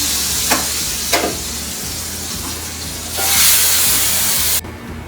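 Kadhi poured into a pan of fried ginger, cumin and chillies, giving a loud, steady sizzle and hiss with a few stirring knocks, swelling briefly as the liquid hits before cutting off.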